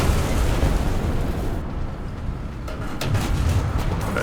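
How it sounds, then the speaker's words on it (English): Bombs going off in War Thunder tank combat around a French Char D2 medium tank, a continuous loud rumbling barrage of blasts and booms close by with no talking. "Oh, bombs. I hear bombs."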